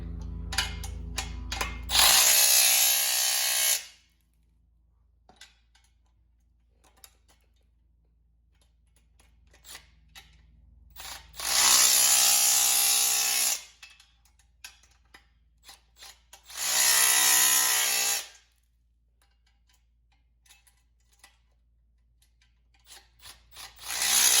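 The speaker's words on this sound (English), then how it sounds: "This is where your 14mm wrench will come into play." A 14mm wrench ratchets bolts tight while a Harbor Freight 2 ton engine hoist is assembled, in close, loud bursts of rapid clicking separated by quiet pauses and scattered small knocks.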